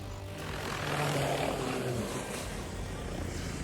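Helicopter of AIIMS Rishikesh flying toward Kedarnath, a steady droning rotor and engine roar that swells slightly then holds, fairly close and without talk.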